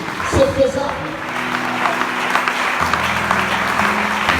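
A church congregation at a seminar in Congo breaks into applause, clapping steadily beneath a voice speaking over it.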